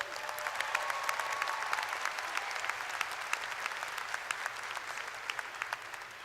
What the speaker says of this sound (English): Let's give all of our scholars one more round of applause.